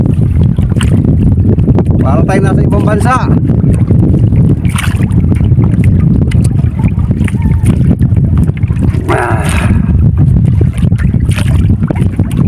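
Cold, strong amihan wind blasts across a small fishing boat at sea, a loud relentless roar with gusts and light splashing, as someone talks over it at times.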